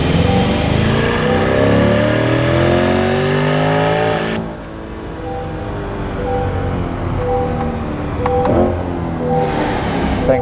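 C8 Corvette engine revving hard on a dyno, a loud rising roar climbing through the gears for several seconds, then an abrupt drop in pitch and volume as the throttle lifts, followed by a quieter idling and coasting drone.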